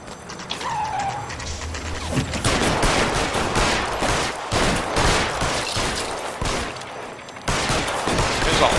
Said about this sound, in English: There's already a shooting.